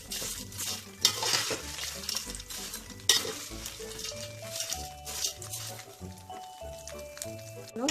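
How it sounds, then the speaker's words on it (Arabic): Vermicelli and rice stirred and frying in a single pot for Egyptian koshari, a steady close sizzle with scraping stir strokes and occasional louder clatters, a faint voice murmuring underneath. "هي هتكمل تحمير مع الشعريه"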